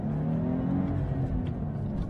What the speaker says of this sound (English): Let's get a couple more acceleration pulls here